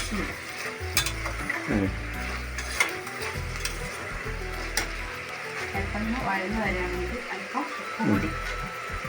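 Chopped green chilies sizzle steadily while they're sautéed in a pan for kappa biriyani, with scraping stir strokes throughout and a voice talking over the frying.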